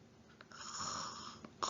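A reader's voice imitates a sleeping bear snoring, a single drawn-out rasping inhale followed by a short snort, soft and close, with no other sounds.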